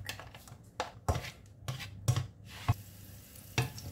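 Garlic cooking in olive oil in a pan, with a soft sizzle under repeated scraping and stirring clatters of a utensil against the pan, close by.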